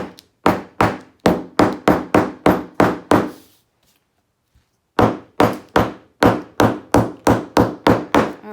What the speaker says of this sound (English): before I go to sew this down, I want to hammer that down just to keep them, reduce bulk